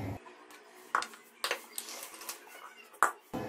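Metal pressure cooker and lid clanks ring out a few times, sharp clatters of cookware being handled with soft background noise between.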